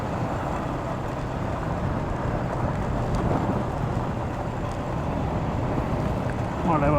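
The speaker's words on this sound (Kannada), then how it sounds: "ಮಳೆ ಬರ್ತಾ ಇದೆ." Steady rain falls on a secluded green lane near Henley and Solihull in Warwickshire, a dense continuous wash with low rumbling underneath, heard throughout at an even, fairly loud level.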